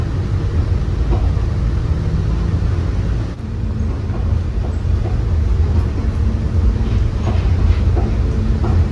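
Airport rail link train at Toronto Pearson rolling to a stop, a steady loud low rumble of the rail car with faint rattles, and a short dip in the noise partway through.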